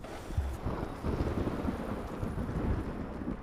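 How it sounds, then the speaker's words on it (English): A thunderstorm in the video game Fallout 76: a steady wash of heavy rain and rolling low rumble, with wind-like noise filling the scene continuously and no clear speech. "My character can sleep through this thunderstorm here."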